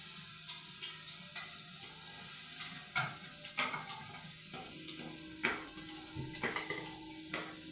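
Onion, green chilli, tomato and mint being mixed in a pan, a soft, low sizzle beneath scattered spoon scrapes and light clinks against the pan, close but fairly quiet.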